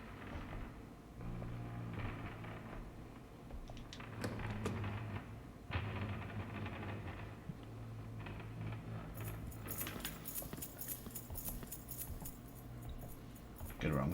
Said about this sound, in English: Really hear the keys.